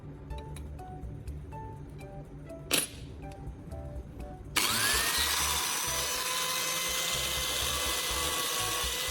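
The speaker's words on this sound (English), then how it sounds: "I switched to the fine sandpaper to finish the polishing process." An angle grinder fitted with a CD disc and fine sandpaper starts up halfway through, switching from quiet handling clinks and a brief scrape to a loud, steady high whir as it polishes metal.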